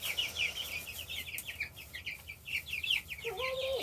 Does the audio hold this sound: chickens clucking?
yes